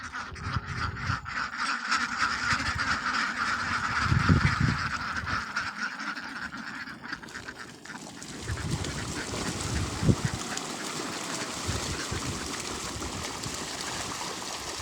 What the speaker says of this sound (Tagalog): papakawalan na natin yung itik dito sa kanilang kulungan para makakain na